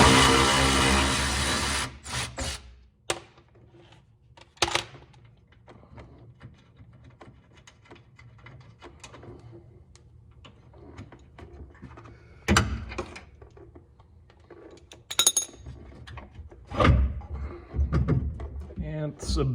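Hand tools clank and rattle while a sway bar is removed from a BMW E36 M3, a burst of power-tool whirring at the start, then sporadic metallic knocks and scrapes with someone talking throughout.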